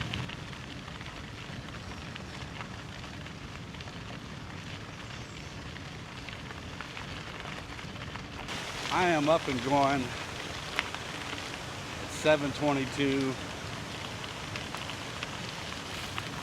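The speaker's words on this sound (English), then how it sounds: "The rain has slacked off considerably" Light rain falls steadily outdoors at a wilderness campsite, a soft constant patter throughout, while someone speaks briefly midway.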